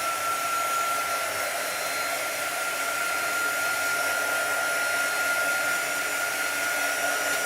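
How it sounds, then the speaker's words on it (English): A quick-dry hair dryer runs steadily while drying a spooky nail design, a constant close airy whoosh with a thin high whine throughout, no pauses. "We're using our quick dry tool."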